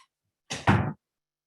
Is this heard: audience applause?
no